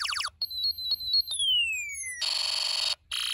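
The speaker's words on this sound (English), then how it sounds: "you'll hear a very interesting combination of sounds, which make it a unique space battle." A Snap Circuits SC-750 sound circuit plays an electronic space battle effect: rapid chirps, a long falling laser-like whistle, then harsh buzzing noise bursts, loud and shifting on its own with no talk.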